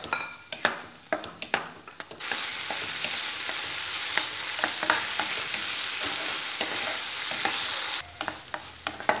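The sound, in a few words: sautéing chopped tomato in hot oil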